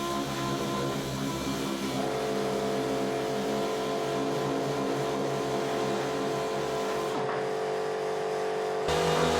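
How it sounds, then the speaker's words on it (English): Power sander working across a large car bonnet panel during a Daihatsu Charade restoration, a continuous loud motor drone with shifting pitch that holds steady throughout, rising slightly near the end. "The sander really took the labour out of doing a big panel like this."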